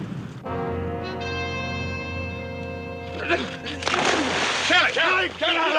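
A person splashes and sloshes in water in a scene from a television western. A sustained musical tone comes first, then the splashes arrive in several close, irregular bursts.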